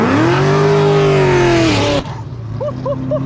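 A yellow Chevrolet Camaro rated at 1,000 horsepower roars past loud and close, its deep engine note rising steadily as it accelerates, then cuts off abruptly into quieter street noise with a few faint chirps.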